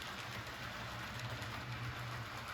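An HO-scale Rivarossi cab-forward model locomotive runs smoothly on its track, giving a faint, steady low whir and soft rolling hum throughout, with no talk.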